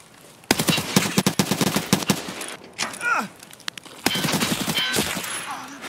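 Rapid automatic gunfire in a shooter video game, loud and close, coming in dense bursts separated by short pauses and scattered single shots.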